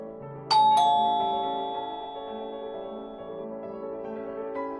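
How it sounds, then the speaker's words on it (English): A doorbell chimes once, a clear bright ding-dong whose tones ring out and slowly fade against a quiet musical background. "Just then, the bell rang once again."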